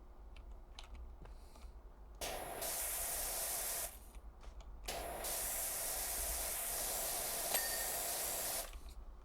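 A power washer in PowerWash Simulator 2 blasts a dirty tyre in long, loud hissing sprays, cutting off briefly between bursts and then resuming steadily.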